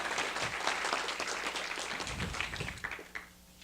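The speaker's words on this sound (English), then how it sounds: "Let's give him a round of applause as well." Audience applause at an ALA graduation ceremony in 2016: a steady, dense roar of many hands clapping at once that holds evenly, then thins and fades out near the end.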